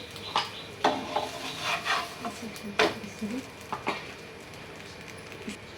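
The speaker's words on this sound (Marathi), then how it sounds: "दुसरा पराठाही आपण शेकून घेऊया" Potato paratha roasting on a hot pan, with soft scraping and pressing from a spatula in irregular taps and rubs over a faint sizzle, close and quiet.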